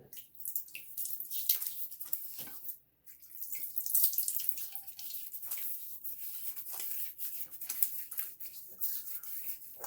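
Tap water running into a sink while preparing shaving bloom water, a continuous splashing hiss with brief interruptions and dripping, close and fairly quiet.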